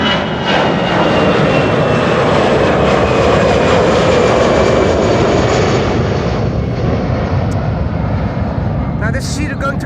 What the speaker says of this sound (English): Oh no, it is a 737.